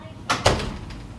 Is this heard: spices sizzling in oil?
no